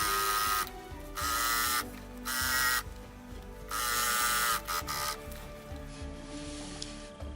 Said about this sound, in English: So I'll continue stitching all the way around, and I'll still do this miter setup on every corner.